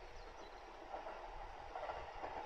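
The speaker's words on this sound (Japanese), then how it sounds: "また電車来た。" A train passes near a mountain river in the Mizukubo area, a faint distant rumble with soft clickety-clack lasting a few seconds under outdoor ambience.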